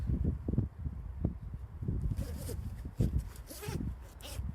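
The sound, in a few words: clothing zips being zipped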